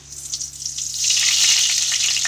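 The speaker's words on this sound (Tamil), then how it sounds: "கடுகு நல்லா பொரியட்டும்" Mustard seeds spluttering in hot oil while tempering for tomato rice, a close, bright crackling sizzle that swells and holds loud after the first second.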